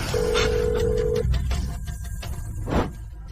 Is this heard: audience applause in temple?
no